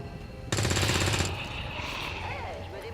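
A rapid, loud string of pistol shots from the XCOM 2 game rattles out for under a second, then gives way to a lingering hum with faint sweeping tones.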